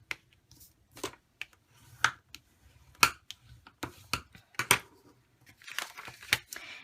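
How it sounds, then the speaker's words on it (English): A bone folder pressing and rubbing along a crease in a black card base gives a series of short, crisp scraping clicks, irregularly spaced and close, with no talking. "here's my bone folder, and I'm just going to reinforce that crease"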